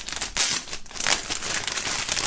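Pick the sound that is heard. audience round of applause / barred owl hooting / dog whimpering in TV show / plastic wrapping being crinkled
plastic wrapping being crinkled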